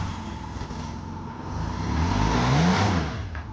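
A 35-year-old Honda Goldwing motorcycle engine runs steadily, then its pitch rises as it is revved, close and fairly loud with no talking.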